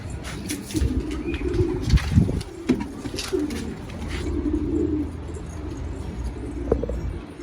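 Pigeons kept in a flock on a hot day, some missing wing feathers, give low continuous cooing and rustling close by, with occasional flutters and bird calls mixed through the steady murmur.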